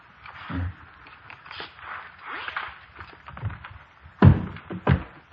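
A police officer's handgun is set down on a desk, giving a couple of sharp solid knocks near the end, with quiet room tone and earlier shuffling movement around it.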